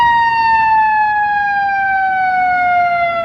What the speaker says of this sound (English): We'll wait for this ambulance to go through here